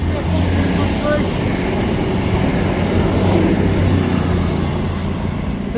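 At St Denys station a train rolls past close by, a loud, continuous low rumble and rattle of wheels on track that holds steady throughout. A voice is faintly present beneath it.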